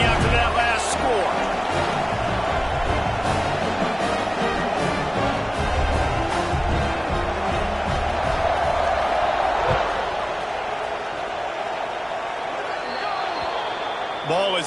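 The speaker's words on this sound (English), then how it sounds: "this crowd is buzzing after that last score" At an NCAA college football stadium the crowd keeps up a loud, continuous roar after a score, with a commentator's voice talking over the buzz the whole time.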